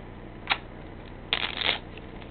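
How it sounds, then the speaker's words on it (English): A deck of playing cards being shuffled close up: a quick riffle, a short pause, then a longer burst of rapid crisp card flutters. "So you put it in the deck, and just shuffle it any way you want, doesn't matter."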